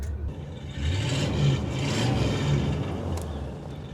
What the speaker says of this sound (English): It's a 1968 Mercury Marquis with a premium fuel 394 Venturi V8. Dual exhaust.